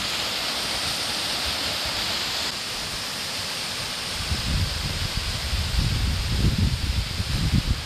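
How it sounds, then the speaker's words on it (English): Steady, broadband rush of falling water at the Pito waterfall in St. Lucia, continuous and fairly close, with low rumbling gusts or handling noise growing in the second half. "we still see waterfall on here"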